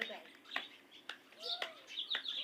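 Faint birds, including pigeons, chirp and tweet in short scattered calls over a brinjal field, some distant, over a soft outdoor background.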